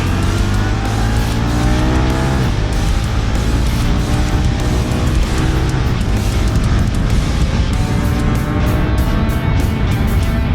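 Ducati Diavel V4 muscle motorcycle ridden on the road, a loud continuous engine drone with rising and shifting pitch as the rider accelerates, plus wind noise, alone without talk.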